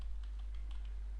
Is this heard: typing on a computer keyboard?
yes